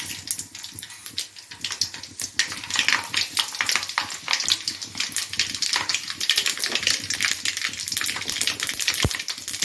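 Mustard seeds and fenugreek crackle and spit in hot oil in a home kitchen while okra kuzhambu is cooked, a dense, steady run of sharp pops close by and alone, with no voices.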